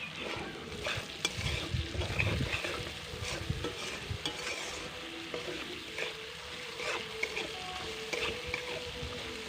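Spice masala being sautéed and stirred in a pan for a potol paneer dish, with steady sizzling and repeated scraping strokes of a spoon through the thick paste. The sound is close and continuous, with no one speaking.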